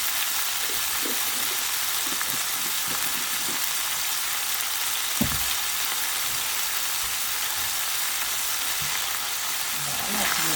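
Food frying in a pan with chili powder being stirred in, a steady loud sizzle throughout with occasional soft scrapes and clinks of the utensil.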